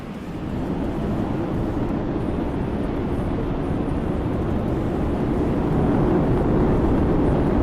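Airliner engines on the takeoff roll, a steady, loud, low roar that builds slightly and holds evenly throughout, with no voices.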